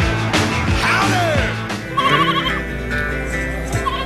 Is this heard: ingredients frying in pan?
no